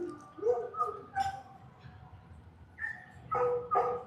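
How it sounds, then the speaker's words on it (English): A dog barking and yipping outdoors at a scarecrow festival, several short, fairly distant yelps in uneven bursts over a quiet background. "sounds like we got a dog over at Ballad of the Bird Dog"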